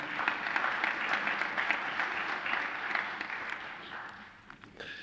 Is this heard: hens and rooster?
no